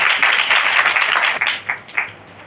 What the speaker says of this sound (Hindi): जो सब कुछ कर सकता है उसके लिए जोरदार तालियां बजाते हैं।